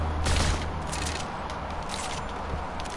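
Gunfire in a shooter video game, a loud burst near the start followed by a dense rattle of distant shots that carries on steadily under game noise.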